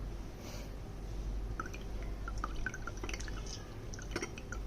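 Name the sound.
orange juice poured through a strainer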